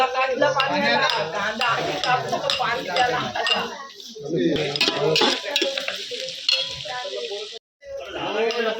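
Onions frying and sizzling in a pan on a wood-fired stove while being stirred, with scraping and clinks of a utensil against the pan and people talking over the steady crackle.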